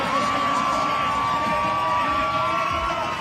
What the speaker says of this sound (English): You hear the crowd. It's amazing.